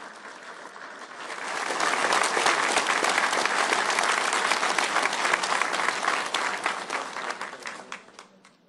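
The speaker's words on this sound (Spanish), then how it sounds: "Que se escuchen fuertes esos aplausos." Applause from a crowd at an official contract-signing ceremony with authorities posing for photographs. The clapping swells in over the first two seconds, holds dense and steady, then thins out toward the end.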